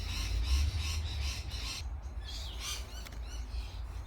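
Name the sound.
parrots squawking in neighbor's apple tree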